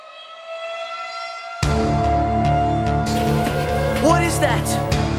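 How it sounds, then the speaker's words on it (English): A tornado siren wails loud and sustained, starting as a fainter tone and then jumping abruptly to a full, steady blare, with a voice talking briefly over it near the end. "The tornado siren sound."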